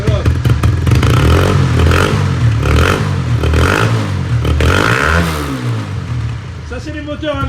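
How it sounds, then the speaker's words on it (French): Large 4000 cc engines in a garage warming up, a loud rough idle with revving surges and clattering, close by, with someone talking over it. "Ça, c'est les moteurs avec 4000 cm3. Il faut le temps de chauffer."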